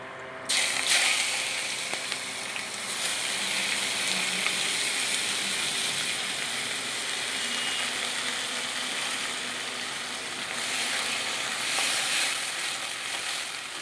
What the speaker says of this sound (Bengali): এবার আমি দিয়ে দেবো কেটে রাখা পেঁয়াজগুলো।